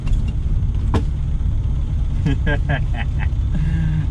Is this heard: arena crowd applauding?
no